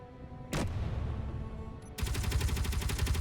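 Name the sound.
Gatling guns firing at a frigate in Space Engineers video game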